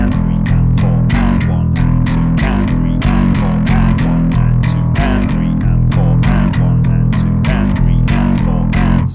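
Loud, overdriven electric bass pounds out a riff in rapid picked notes with a heavy accent on the and of two, continuous and alone until a sudden cutoff.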